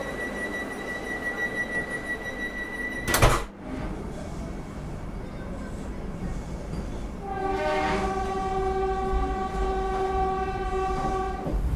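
A saffron Vande Bharat express train pulls away on the rail line, with steady rumbling rolling noise, a brief loud burst early on, and a sustained horn sounding over the running train in the second half.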